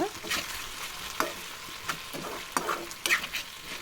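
Potato fry (aloo fry) being stirred in a pan, with scraping strokes of the spoon at an uneven rhythm over a steady soft sizzle.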